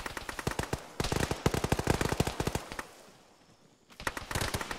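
Rapid bursts of squad weapon fire in a jungle military video game, dense strings of sharp shots, a pause, then another burst, loud and close.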